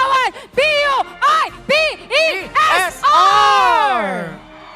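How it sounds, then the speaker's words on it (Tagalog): A crowd dressed in red shouts in rhythm at the BU Olympics 2025 opening ceremony. Five loud, clipped chant syllables are followed by a long, rising-then-falling cheer up close. "hiyawan, sigawan,"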